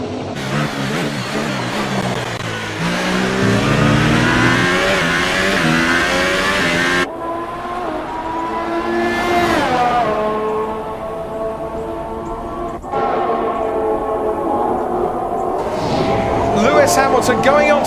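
Formula 1 cars race around Bahrain in the F1 2018 game, loud high-revving engines rising and falling through gear shifts as cars pass close by, with a commentator talking over the roar.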